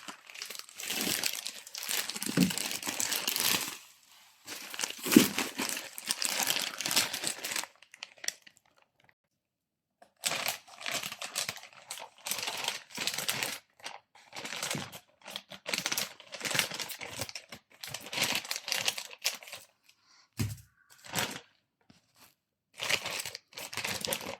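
A bag of seed-starting soil is opened with repeated crinkling and rustling of plastic packaging, close and in bursts with short pauses, no talk.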